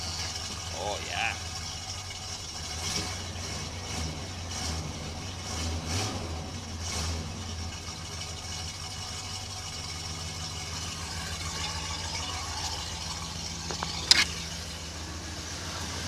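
Outboard engine on an aluminum boat running steadily after the fuel bulb is primed, a low, even idle hum under occasional talk, with a sharp click near the end.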